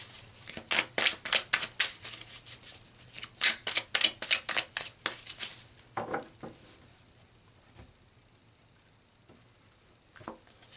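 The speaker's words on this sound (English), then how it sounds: "So let's pull some more cards here" Tarot cards are shuffled in quick, close riffling bursts for about six seconds, then a few soft card slides and taps follow as cards are pulled in near silence.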